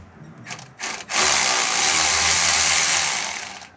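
A power tool whirs loudly and steadily, running bolts out on a 2006 Chevrolet Colorado during a rear differential fluid change. A couple of short bursts lead into a sustained near run of about three seconds, with no speech.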